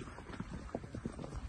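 Horses' hooves clip-clop at a walking pace along a tree-lined riding trail at a horse farm, a quiet, uneven patter of hoofbeats fairly close by with no talk.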